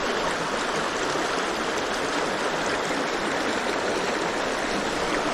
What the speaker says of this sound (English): That's a big brook.